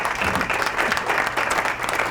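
An audience at an Islamic quiz competition breaks into brief, steady applause, dense and close, with no voices over it.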